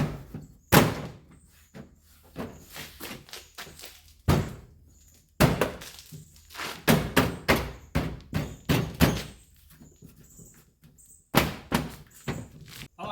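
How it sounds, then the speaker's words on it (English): Door trim panel being fitted back onto a 1983 square body truck: a run of close thunks, knocks and plastic clicks in irregular bursts with quiet pauses between. "Time to put this door facing back on, and a door card back on."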